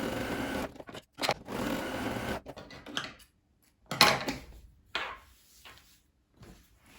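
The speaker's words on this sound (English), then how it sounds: "I'm just gonna stitch the edges here with a zigzag stitch so they don't fray" Sewing machine running a zigzag stitch along fabric edges in short, close, stop-start bursts of rapid mechanical clatter separated by brief pauses.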